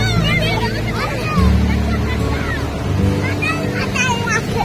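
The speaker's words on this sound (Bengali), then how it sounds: "এই দেখো কত বড় ঢেউ আসছে" Big sea waves break at Puri beach, a broad continuous roar of surf with swelling surges, while people talk and chatter over it nearby.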